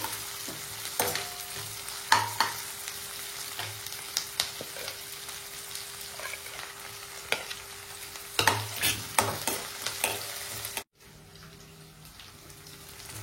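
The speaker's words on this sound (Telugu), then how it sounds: "పచ్చిమిర్చి, ఆనియన్స్, కరివేపాకు, ఒక 2 నిమిషాలు అట్లా ఫ్రై అవనిద్దాం" Green chillies, sliced onions and curry leaves fry in a pan for masala dosa filling, a close sizzle broken by repeated sharp scraping stirs, and the frying sound drops away abruptly near the end.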